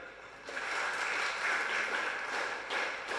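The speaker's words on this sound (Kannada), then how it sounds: "ಅವರಿಗೆ ಒಂದು ಚಪ್ಪಾಳೆ ಕೊಡಿ" At a poetry book release ceremony, an audience gives steady, fairly faint applause, a continuous wash of clapping that holds evenly throughout.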